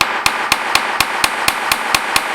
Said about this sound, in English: hammer that beginning end right past the ball and just up along the turn on both sides